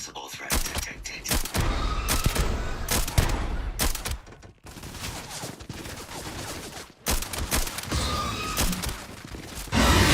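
Bursts of gunfire during a Starfield combat encounter, loud, rapid volleys with short pauses between them, mixed with game voices and impact thuds.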